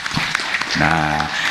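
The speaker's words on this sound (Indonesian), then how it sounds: "Tepuk tangan untuk Pak Bupati." A crowd at a live Islamic lecture gathering claps for the regent, a steady wash of applause running under a voice.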